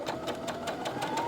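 A sewing machine stitches fabric along a quarter-inch seam, its needle hammering out a quick, steady rhythm over a humming motor, close and moderately loud, with no talk.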